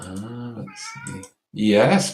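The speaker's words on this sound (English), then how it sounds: "That's my cat." A house cat meows a few times close by, the short tonal cries mixed with someone speaking briefly between them indoors.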